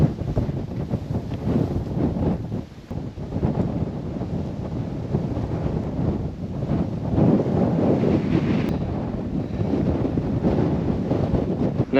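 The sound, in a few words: strong wind on a mountain in Gros Morne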